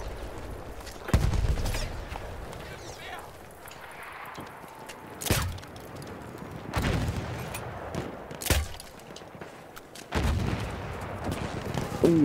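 Battlefield 1 multiplayer combat: a series of loud sharp gunshots and booms, a grenade blast among them, cracking out irregularly over a rumbling battlefield background, with no one talking.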